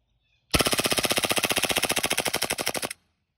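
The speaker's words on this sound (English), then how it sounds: "I'm gonna use the last few BBs on fully automatic." A rapid full-auto burst from an Elite Force Glock 18c airsoft pistol emptying its last BBs: about two and a half seconds of loud, evenly spaced cracks that stop abruptly.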